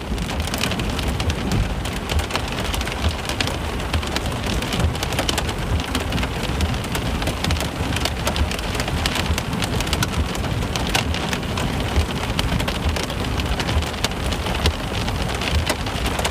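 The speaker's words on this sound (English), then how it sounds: "Is all that hail about to just rip through here?" A heavy hailstorm pounds down near Denver during a storm chase, a dense, loud, unbroken roar of impacts on surfaces and a car, with no voices.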